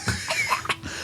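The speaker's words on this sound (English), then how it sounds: "there's like a deep, resonant, like hacking the black cough." A deep, resonant hacking cough voiced by a player during a Renaissance fantasy tabletop roleplaying session, several short rough bursts close to the microphone with no other talk.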